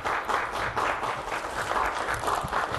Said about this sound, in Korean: 축하의 박수를 부탁드립니다